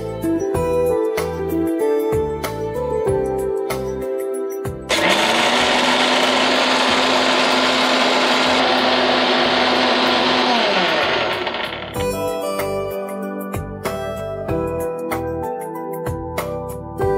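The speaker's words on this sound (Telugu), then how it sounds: "ముందుగా మనము జొన్నలు మిక్సీ పట్టేస్తాం." A mixer grinder blends soaked jowar with a little water in a loud, steady whirring burst lasting about seven seconds, framed by music before and after.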